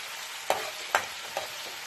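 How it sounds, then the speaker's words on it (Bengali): Dried red chillies frying in oil in a pan, a soft steady sizzle broken by three quick, sharp stirring clicks in under two seconds. "আমি কয়েকটা শুকনা মরিচ দিচ্ছি, এটাকে একটু লালচে করে ভেজে নিচ্ছি।"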